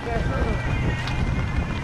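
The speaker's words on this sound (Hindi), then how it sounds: "हवा ना बहुत तेज हवा लगी हुई है" Strong wind in Solang Valley buffets the microphone with a steady low roaring rumble, gusting throughout while someone speaks briefly over it.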